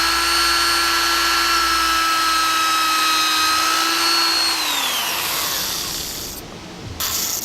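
A power drill whines steadily while boring holes in wood for a bread shelf, its pitch holding level and then winding down as the bit slows, followed by brief quieter handling noise.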